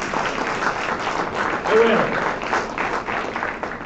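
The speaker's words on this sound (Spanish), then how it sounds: "Den un aplauso al Rey allí." Church congregation applauding during a Sunday Christian service, a broad steady wash of clapping that holds for several seconds while a preacher's voice carries on over it.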